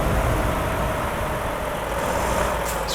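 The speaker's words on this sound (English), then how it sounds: "Let's open the windows for a bit, actually hear the truck." A Mack Anthem truck engine in American Truck Simulator hums steadily, a low, continuous rumble with a constant, even drone throughout.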